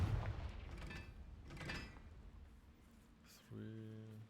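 A Confringo explosive spell goes off in Hogwarts Legacy with muffled booming bursts, the first heavy and a second one a moment later, followed by a quieter game tone, all fairly faint.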